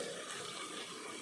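Two cups of water poured into a sambar pan in a home kitchen make a brief, steady splashing hiss, quiet and alone.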